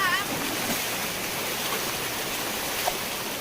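Steady broadband rush of a flooded river flowing at a washed-out hume pipe culvert crossing, continuous and fairly loud with no distinct breaks.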